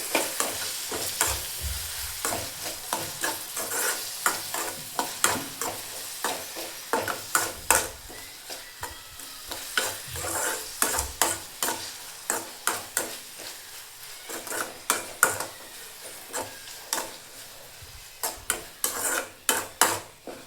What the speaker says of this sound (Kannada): ಈಗ ಫ್ರೈ ಮಾಡ್ಕೊಳ್ಳೋಣ್ರಿ